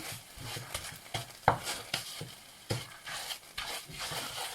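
Food being stir-fried in a pan with coconut cream for a simple home-style Thai family dish, with repeated scraping and stirring strokes, soft sizzling, and occasional sharper clacks of a utensil against the pan, close and steady.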